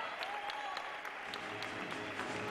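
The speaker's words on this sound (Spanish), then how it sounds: "Un fuerte aplauso a todos ellos" A crowd claps at a 2012 carnival queen coronation, the Carnaval de la Luz, a brief steady burst of applause with a few sharper claps standing out.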